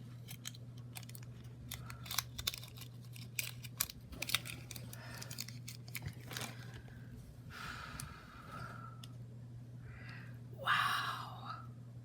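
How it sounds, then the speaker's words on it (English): Faint crinkly scraping and a few sharp ripping bursts as tape is peeled and cut off a packaged model horse, set over a low steady hum in a quiet room, with soft breathy sounds and no speech. "So I do want to get the tape off of him there."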